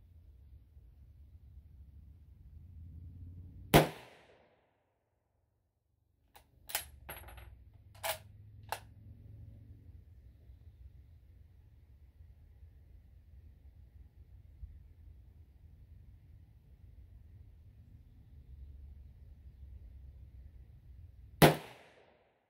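Two sharp, loud reports from a .303 Lee-Enfield bolt-action rifle ring out, spaced far apart in an otherwise quiet stretch. Faint mechanical clicks and handling noises fall between the shots.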